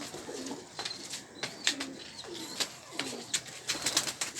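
Pigeons coo in repeated low, throaty calls, close by, mixed with light rustling and faint clicks; no voices.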